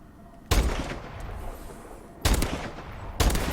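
A semi-automatic sniper rifle in the shooter game Advanced Warfare fires three loud, sharp shots, each with a short echoing tail, spaced unevenly across a few seconds over faint background hiss.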